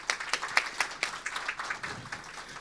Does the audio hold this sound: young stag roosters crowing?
no